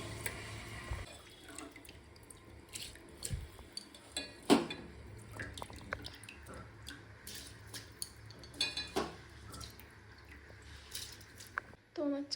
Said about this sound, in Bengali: তো এবার চালটা দিয়ে দেবো।